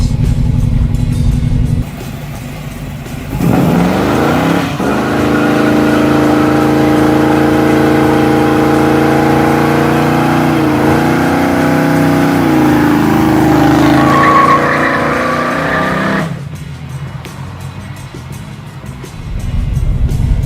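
A 1968 Camaro SS 427 big-block V8 revs hard, its deep sustained roar rising and holding for about thirteen seconds before cutting back to a quieter idle, loud and close with no talk.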